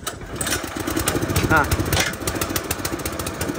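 A tractor engine labors and revs steadily while towing a stalled Mahindra Thar, a rough mechanical drone with a brief voice over it.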